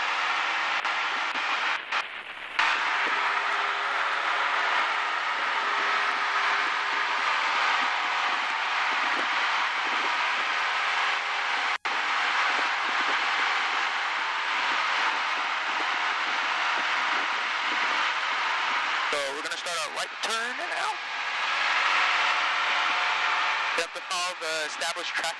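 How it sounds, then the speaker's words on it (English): Light aircraft engines droning steadily in flight over the Rhine, a loud, unbroken cabin hum that runs throughout while people talk over it. "it's the sound of the engines"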